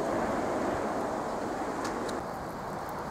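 Strong late-autumn wind roars continuously against the microphone, a dense, steady rush with no voices.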